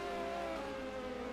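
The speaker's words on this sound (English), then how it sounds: "You can hear the cars on the track." Formula 1 cars with turbo engines, including BMW power, racing at Imola in the 1986 San Marino Grand Prix, give off a steady distant engine drone with a sustained whining tone.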